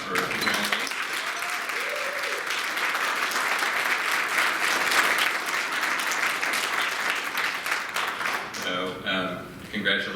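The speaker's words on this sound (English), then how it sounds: "round of applause for Emily." An audience applauds a researcher at a research update, with sustained, fairly loud clapping from many people that tapers slightly near the end.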